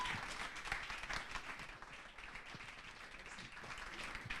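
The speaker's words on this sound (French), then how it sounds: "on l'applaudit bien fort." Applause from an audience for a presenter after a pitch at a sales talent contest, a steady wash of clapping from many hands heard somewhat distant and soft, continuing throughout.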